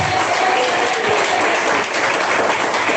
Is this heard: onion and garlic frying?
no